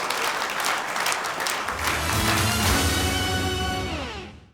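An audience at a televised talent show gala claps in loud, dense applause that gradually fades out, while music rises beneath it partway through.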